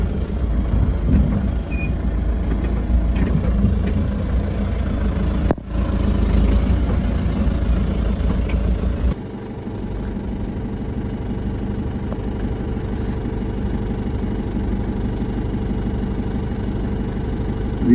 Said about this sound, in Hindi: निकाल से गाड़ी को बाहर